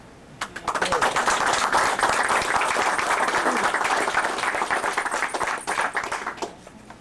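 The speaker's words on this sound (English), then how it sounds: "I think we ought to give you another round of applause." Applause at a 50th wedding anniversary dinner in a restaurant, a dense room-filling burst of many hands clapping that swells quickly, holds steady for about six seconds, then thins out.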